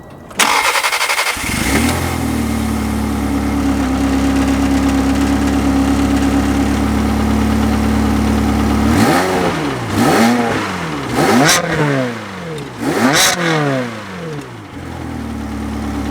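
Ferrari 360 with a gated manual gearbox cranking and firing up, then settling into a loud steady idle before several sharp throttle blips rise and fall, ending back at idle.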